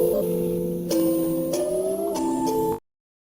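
A synthesizer plays a sustained melody of held tones that glide between notes, bright and loud, stopping abruptly.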